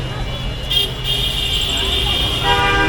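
Busy road traffic at the Satmatha roundabout in Bogura during rain, with a steady engine rumble and a sustained car horn toot standing out near the start, plus further honks under the traffic noise.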